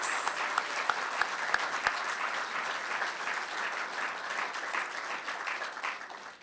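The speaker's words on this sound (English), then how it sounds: "let's give another round of applause to our 3 speakers today" Sustained audience applause fills a civic State of the State gathering in Torrance, California, honoring two senators and an assembly member; a few sharp, distinct claps open a steady, dense wash of clapping that holds evenly before trailing off.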